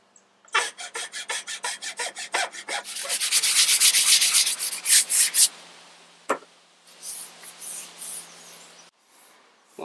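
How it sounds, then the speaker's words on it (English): Repeated rhythmic rasping strokes of a medium-grit sanding block on a wooden walking stick, close and loud, speeding into a dense scrubbing burst before slower strokes resume. "using just that medium grit sanding block was enough, because it's nice and smooth now"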